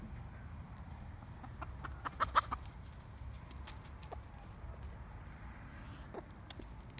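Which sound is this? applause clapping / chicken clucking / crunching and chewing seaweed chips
chicken clucking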